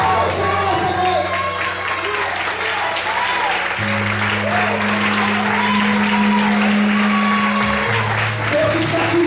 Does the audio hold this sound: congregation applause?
yes